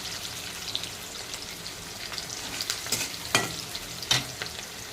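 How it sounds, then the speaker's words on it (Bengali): Chopped onion with ground mace frying in oil, a steady close sizzle with occasional sharp spatters and stirring clicks, alone without talk. "এখন এরপরে দিয়ে দিচ্ছি আমি তেলে পরে পেঁয়াজ কুচি।"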